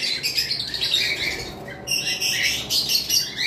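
Caged lovebirds and rosella parrots squawk and chirp in a dense, shrill chorus, with a brief lull near the middle before the calls resume.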